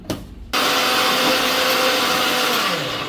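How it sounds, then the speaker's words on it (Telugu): A mixer grinder blending spices and salt for Bagara Baingan starts after a brief clatter. It settles into a loud, steady, close whirring roar that holds to the end. "ఉప్పు ఇప్పుడు మొత్తం మిక్సీకి పడదాం"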